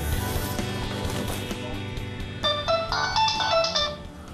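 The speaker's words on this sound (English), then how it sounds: "My phone ringing can get to a point where I can't even remember where I've left my phone." A mobile phone rings with a bright electronic melody of repeating tones, rising over background music and low rumble in the last couple of seconds.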